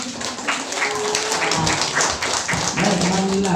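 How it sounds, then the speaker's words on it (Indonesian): Audience at a 2021 graduation ceremony claps in a dense, moderately loud burst of applause with scattered taps, lasting a few seconds, while a voice speaks near the end. "Baik, kasih tepuk tangan."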